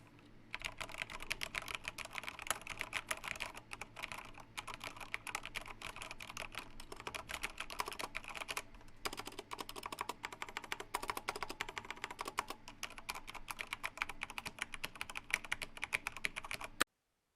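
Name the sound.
typing on Ducky One 2 TKL keyboard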